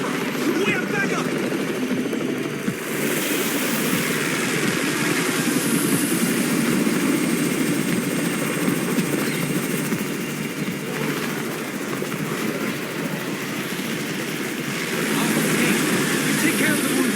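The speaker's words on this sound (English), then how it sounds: "It's the Raven's chopper! We have backup!" Helicopter arriving in the zombie survival game Undawn, a steady loud rotor and engine drone running throughout, mixed with game music and effects, with a voice speaking over it.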